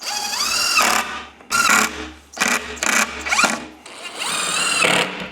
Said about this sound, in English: I want to throw a few screws in right now on these 1, 2, 3, 4 pieces.